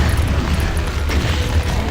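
A rocket launcher explosion in a Doom map, a loud, heavy low boom rumbling through the whole short stretch with a thick, rolling blast.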